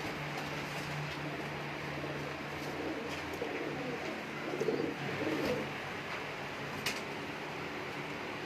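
Teddy pigeons of the Miyan Sahab breed coo softly in a loft in Sheikhupura, with low, rolling coos over a steady hiss of background noise.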